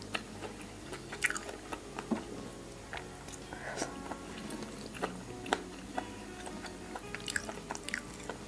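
Close, quiet chewing and crunching of a Thai mixed papaya salad with crisp red radish, soft wet bites and squishes repeating steadily.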